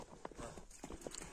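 A healthy horse walks with sound legs, its hooves giving a few faint, irregular clip-clop beats over little more than a second.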